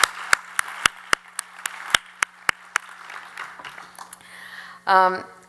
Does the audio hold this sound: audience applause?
yes